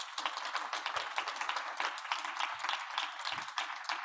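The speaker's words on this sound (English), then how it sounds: "I think that deserves an applause for them" Employees at a company foundation day annual general meeting applaud blood-donating colleagues, a dense, steady wash of many hands clapping throughout with a few murmured voices underneath.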